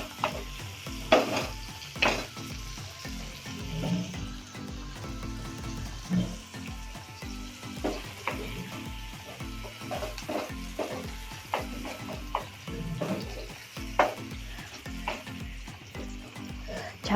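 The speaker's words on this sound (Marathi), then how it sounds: "तो पण 1 मिनिटभर परतून घ्यायचा आपल्याला।" Finely chopped tomato sautéing in a pan for a vegetable dish, with a steady sizzle and repeated scraping stirs spread across the whole clip and no voices.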